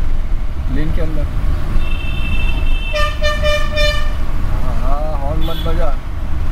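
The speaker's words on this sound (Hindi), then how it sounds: "हॉर्न मत बजा" A car horn toots on a road during a driving lesson, with two short honks partway through and a longer honk near the end, loud over steady engine and traffic noise; people talk inside the car.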